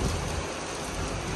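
Rain falls steadily in a dense, even hiss of drops hitting surfaces, a loud continuous wash from close by with no voices.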